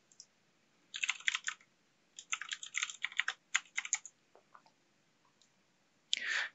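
Quiet keystrokes on a computer keyboard come in short bursts with pauses while a username and password are entered, ending with a sharper click.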